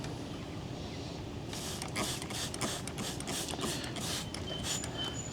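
A handheld sprayer mists hydrogen peroxide onto a small palm, giving a run of quick, hissing squirts after a quiet start. The bursts are close and fairly soft.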